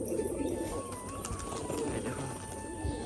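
Rajshahi and Lotan pigeons, one a white feather-footed bird, coo softly during their moult. The low, continuous murmur is faint against a steady background hum.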